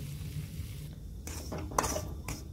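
A utensil scrapes and clinks in a pan as moong dal flour roasts in ghee, a few quiet irregular stirring strokes over low background hiss.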